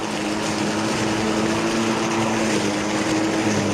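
An electric lawn mower cutting grass, its motor giving a steady, close, high-pitched whir with a constant hum and no voices.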